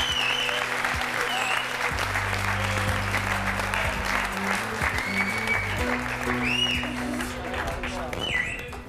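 A French TV talk show studio audience claps warmly to welcome the next guest, loud continuous applause lasting several seconds with music playing underneath and brief chirping sounds.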